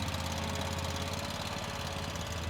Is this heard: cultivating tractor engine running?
yes